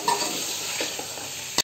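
Boiled black chickpeas and rice being mixed in a pot, a soft continuous sizzle with light scraping stirs close by, ending in a brief clatter.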